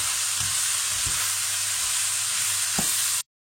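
Leeks stirred in a pan, frying with a steady bright sizzle and a few soft scrapes of the spoon, close and continuous before cutting off abruptly.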